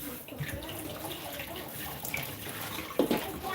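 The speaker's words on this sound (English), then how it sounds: "You need to go and wash your hands." Tap water runs steadily as hands are washed in a home kitchen, a soft continuous splash with a brief louder gush near the end, under faint background sounds.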